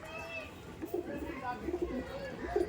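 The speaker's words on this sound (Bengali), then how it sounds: "বাহ পায়রাটা দেখুন কত সুন্দর পায়রা" Pakistani teddy pigeons coo softly in short repeated low murmurs close by, while people talk over them.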